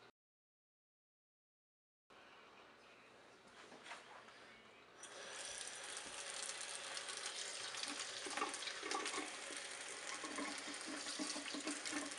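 Cold tap water runs steadily over boiled egg whites, starting after a brief silence and then growing to a strong, continuous hiss and splash that lasts to the end.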